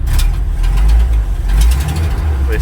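A 1952 Dodge M37 truck engine runs loud and close, a steady low rumble that surges slightly as it is given gas, with no talking.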